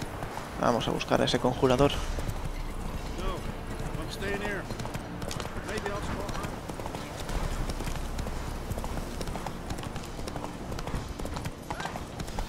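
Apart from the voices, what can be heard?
horse galloping in The Witcher 3 video game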